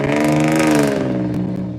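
A car engine revs hard and then eases off, a loud close whine with rising and falling harmonic tones, and there is no talk over it.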